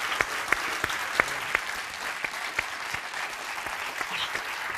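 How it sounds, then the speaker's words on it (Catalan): Studio audience applauding a guest on a television talk show, a steady moderate clapping from a modest crowd with a few sharper individual claps standing out. "Un aplaudiment, sisplau, pel Benet."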